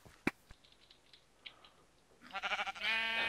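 Sheep bleat in a video game: a few faint clicks and taps first, then a sharp burst of repeated bleating near the end.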